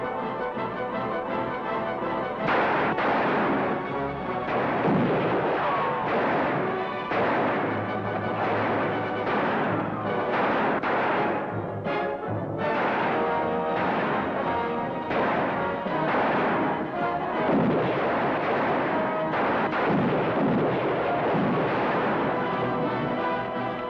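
Rifles fire in a 1953 Western film, with repeated loud cracks and booming reports spaced irregularly over a continuous rumbling din, sounding close and echoing.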